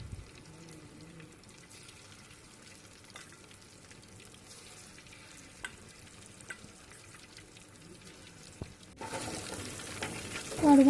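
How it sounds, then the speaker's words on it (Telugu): Chicken pieces for homemade chicken pakodi frying in hot oil, a steady low sizzle with faint stirring clicks, growing louder and brighter near the end. "ఇలా చికెన్ ముక్కలన్నీ కాగిన నూనెలో వేసుకోవాలండి."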